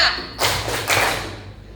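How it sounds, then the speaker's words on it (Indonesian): Two distinct hand claps, close and fairly loud, spaced about half a second apart, each with a short reverberant tail in a quiet room. "Tepuk 2."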